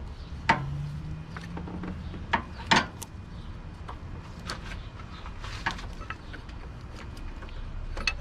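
A pry bar scrapes and clicks against metal parts in the engine bay of a 2001 Honda Accord during a power steering pump belt job, with sparse sharp knocks and a brief creak over a quiet background.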